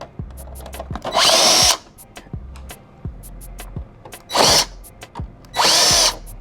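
A power drill backs out screws holding a top panel during cleaning of a Solaris front tank, with three loud, close whirring bursts separated by clicks and handling knocks.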